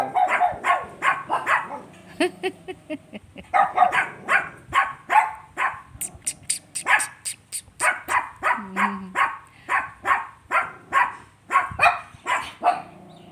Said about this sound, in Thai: โอ้ยตัวนู้นหันหลังเห่า